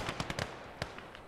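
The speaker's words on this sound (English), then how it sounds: "His officer definitely just got sniped." Sharp single shots from a sniper rifle and other small arms in the WWII strategy game Gates of Hell: Ostfront, a 1v1 match, crack out as several quick reports early on, then a louder lone shot and two fainter ones later, with no talk.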